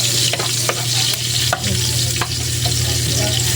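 Onion and garlic frying in hot oil, a loud constant sizzle with rhythmic spatula scrapes and taps against the pan, close up and free of voices.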